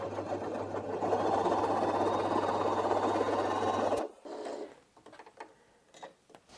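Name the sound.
Janome J3-18 sewing machine stitching through four fabric layers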